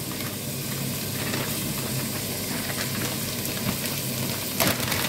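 Minced beef sizzling steadily in a hot pan with green beans, a loud, even crackling hiss with a faint clink near the end.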